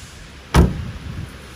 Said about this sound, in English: Driver side door now.